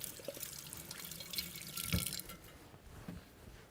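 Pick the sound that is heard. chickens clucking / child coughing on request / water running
water running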